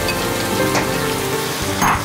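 Shallots and sliced onions sauté in a hot pan for a fish pepper masala, giving a steady, close sizzle throughout with a brief stirring flare near the end.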